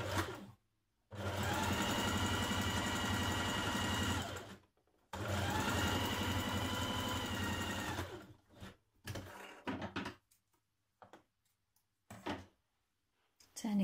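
Domestic sewing machine stitching the long folded edge of a sweatshirt sleeve band, two steady bursts of about four and three seconds each, close and loud, followed by scattered handling clicks and fabric rustle.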